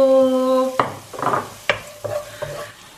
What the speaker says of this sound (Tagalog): Lagay lang ng konting oil ulit. Oh, ang init. Bawang sibuyas. Gisa-gisa tayo.